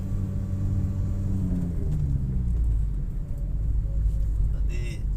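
A steady low rumble of many cars moving along a busy, queued stretch of the Pantura road in Indonesia, with engine drone rising and fading as vehicles pass close by; a voice talks over it.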